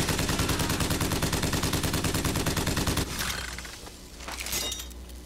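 Crank gun, a hand-cranked rapid-fire weapon in the video game Bioshock Infinite, fires a dense, loud, continuous burst for about three seconds before cutting off, followed by shattering and breaking crashes.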